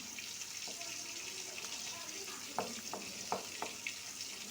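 An egg fries in a pan with softened cucumber and lentils, making a faint, steady sizzle broken by a few soft clicks and taps of stirring near the end.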